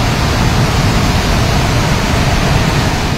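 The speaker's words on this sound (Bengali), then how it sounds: "এদিক দিয়ে গেটের জলটা আসে, গেট ছেড়ে দেওয়া হয়েছে" Water released through the opened gate of the Dumbur dam in Tripura rushes past in a loud, unbroken roar that stays constant from start to finish.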